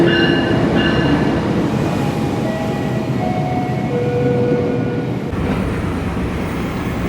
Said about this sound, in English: Here comes our train, getting ready to go on our 3-hour train ride.